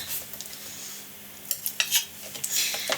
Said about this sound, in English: just going to start by wedging in some of this butter here